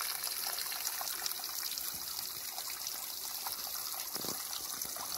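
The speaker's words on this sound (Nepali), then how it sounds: "यहाँ चाहिँ पानी यसरी आइरहेछ यहाँनिर" Water runs and trickles steadily in a mountain setting, a soft continuous flowing wash with faint splashes throughout, heard alone at low volume.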